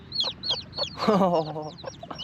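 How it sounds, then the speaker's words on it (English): Chickens cluck nearby in quick repeated bursts, with one louder, longer drawn-out squawk in the middle, the clucks continuing close and clear on either side. "Hello, chicken."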